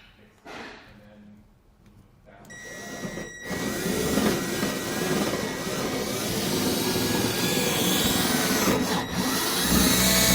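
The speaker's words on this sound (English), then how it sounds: "I'm going to go ahead and start drilling out these holes" A power drill whirs steadily and loudly for several seconds while drilling out holes in a motorcycle wheel chock, a continuous grinding buzz after a few brief knocks at the start.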